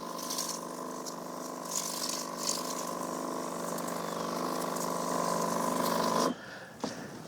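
A pump sprayer soaks soil and gravel along a sidewalk with carpenter ant treatment, giving a steady, fairly loud hiss and gush of liquid that runs unbroken for about six seconds before cutting off, then a brief spurt.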